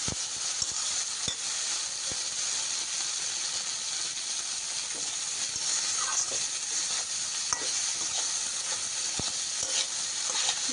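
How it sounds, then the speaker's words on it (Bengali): Chopped okra fries in a pan with a constant bright sizzle, close and loud. A spatula stirs it, making scattered scraping clicks and taps throughout. "ঢেঁড়সটি দিয়ে সুন্দর করে নেড়ে চেড়ে মিশিয়ে নিতে হবে"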